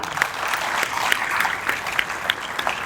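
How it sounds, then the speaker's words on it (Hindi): Loud audience applause fills the whole stretch at an event honoring someone with a memento, dense steady clapping from many hands with no voices over it. "जोरदार तालियां।"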